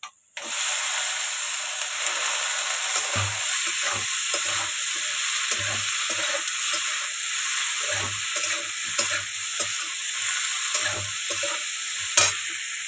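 Cabbage with salt and turmeric sizzles steadily in a pan with potatoes and carrots, while a spatula scrapes and knocks against the pan in repeated strokes, close and continuous.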